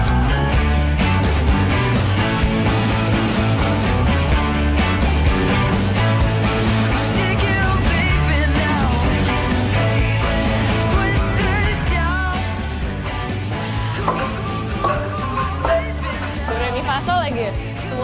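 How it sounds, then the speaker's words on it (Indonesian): Bamboo angklung tubes sounding as someone walks up wooden stairs built over them, a dense busy clatter of rattling pitched tones throughout, loud and close. "Penasaran mau nyobain si angklungnya bunyinya kayak apa?"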